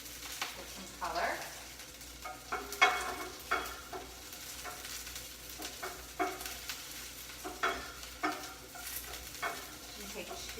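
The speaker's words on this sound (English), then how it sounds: "My pan is quite hot. Letting that saute out" Green beans sautéing in a very hot pan, with a soft continuous sizzle and regular spatula stirs and tosses, close by, without speech.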